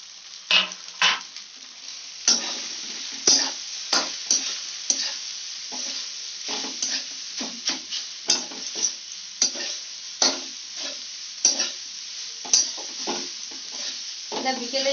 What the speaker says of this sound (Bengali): একটু ভাজা হয়ে যাক